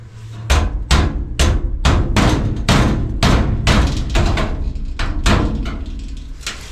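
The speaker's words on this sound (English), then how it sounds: "So I'm just going to start with trying to smash everything down in so there's nothing sticking out with my hammer." A hammer repeatedly smashing rusted-through sheet metal on a Mini F150, about a dozen loud, close, evenly spaced metallic blows with ringing decay between them.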